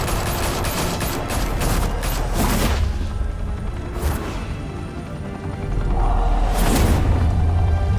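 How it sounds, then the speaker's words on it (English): Gunfire in the Batman Telltale Series game, a dense volley of rapid shots and impacts at the start that fades into rumbling, then a heavy swell of noise, loud and cluttered with no talk. "Open fire!"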